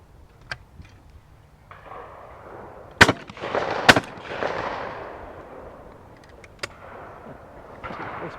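Shotgun blasts at a sporting clays shoot during the Beretta World Sporting Championship VIP day, with two sharp, loud reports a second apart followed by rolling echoes and fainter distant shots.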